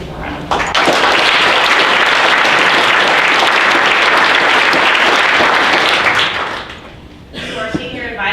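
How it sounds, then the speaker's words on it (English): At a senior class brunch, a crowd gives loud, close applause for the seniors' supporters, holding a dense wash of clapping for about six seconds before it dies away. A few faint noises follow. "let's give them a round of applause"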